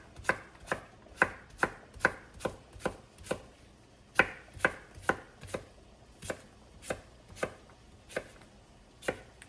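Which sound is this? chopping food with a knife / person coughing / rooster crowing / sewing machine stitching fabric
chopping food with a knife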